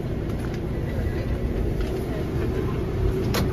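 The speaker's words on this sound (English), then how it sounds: "This is a Bronx bound 6th local train." A New York subway 6 local train runs, a steady loud rumble of wheels and carriage with a brief squeal near the end, heard from inside the car.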